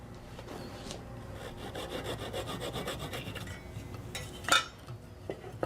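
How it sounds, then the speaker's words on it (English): A small piece of holly wood being sawn by hand, giving a steady rasping run of close strokes, followed by a brief louder scrape and a couple of light knocks. "And I can just go ahead and saw that."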